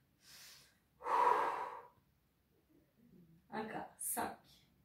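Heavy, close breathing during a gluteus medius toning exercise: a few distinct breath bursts, some louder and rougher like gasps or snorts, separated by short quiet gaps.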